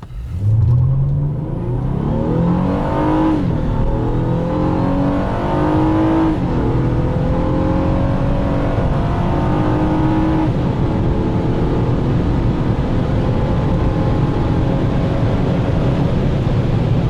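A 2014 Honda Accord with a KTuned V6 accelerates at full throttle from inside the car, its engine note climbing through several rising gear pulls with brief dips at shifts, loud and steady with no talk.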